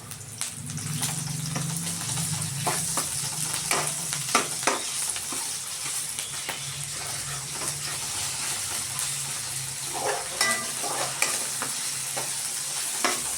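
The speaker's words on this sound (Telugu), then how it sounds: "ఇట్లా చిట్టపట అన్ని మీద పడుతుంది, జాగ్రత్తగా కలుపుకోవాలి" Ginger paste spatters and sizzles in hot oil while being stirred for an egg curry, with a continuous crackling fry, repeated sharp pops and scraping strokes of the spoon throughout; close and fairly loud, with no talking.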